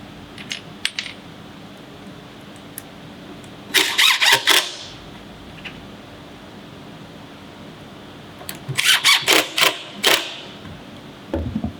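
A drill drives pocket hole screws into wood during a children's hall tree build, heard as two close, loud, pulsing bursts of whirring, with a few light clicks in between.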